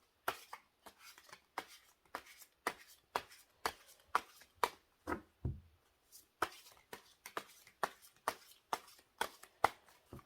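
Tarot cards are shuffled and laid down in a steady run of crisp riffling slaps and taps, about two per second, close and quiet, with one short pause partway through.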